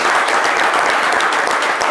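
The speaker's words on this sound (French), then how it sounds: "Ça s'applaudit, les gars." Dense, loud applause from a crowd at a football-related talk show, steady and sustained throughout without a break.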